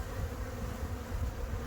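Honey bees buzzing steadily and close on an autumn cleansing flight, a dense continuous drone with no voices.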